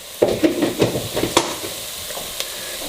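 Flour is stirred into a roux in a pot for cheeseburger soup: a run of close spoon scrapes and knocks in a steady rhythm over a soft sizzle, fading to a quieter simmer with one late tap.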